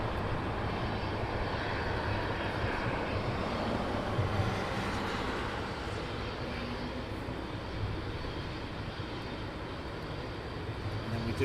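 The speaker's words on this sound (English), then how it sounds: "It's a British Airways 777. Love the sound." A British Airways Boeing 777 at London Heathrow Airport gives off a steady, broad jet engine roar that stays fairly constant and moderately distant, with no talk over it.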